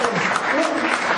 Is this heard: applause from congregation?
yes